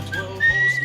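A character whistles a few short, clear, wavering tones in the video game Where the Water Tastes Like Wine, sounding close and fairly loud against a quiet background.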